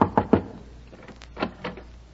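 A few sharp knocks on a door, a quick trio followed by a softer pair, as a sound effect in an old radio comedy show, close and clear with no talking over them.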